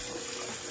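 Tap water runs steadily and loudly into a sink while a lace wig is rinsed, a continuous close splashing stream with no talk.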